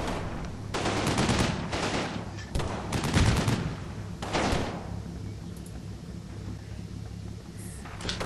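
Smoke grenades launched by a tank and infantry squads in the Combat Mission video game: a series of sharp thumping pops and bursts in the first five seconds, then a quieter, lingering background hiss.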